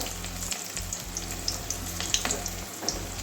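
Stuffed teasel gourd (kakrol) coated in gram-flour batter fries slowly on low heat in oil, a steady soft sizzle with scattered small pops and crackles, close by and without talk.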